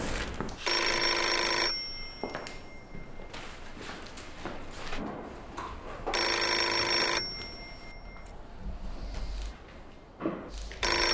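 An indoor telephone bell rings in two long, loud, close bursts separated by several seconds of quieter room noise and light footsteps, with no voices.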